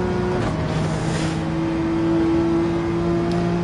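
A Porsche 911 RSR race car engine in Gran Turismo 7 at Dragon Trail Seaside holds a steady, loud drone with a sustained tonal whine, running evenly at high revs without any talk.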